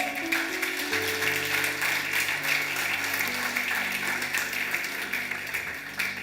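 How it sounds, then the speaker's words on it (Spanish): Church congregation clapping together during a sermon, a steady dense round of applause over sustained organ or keyboard chords, close and fairly loud throughout. "Dile un aplauso a la palabra de Dios"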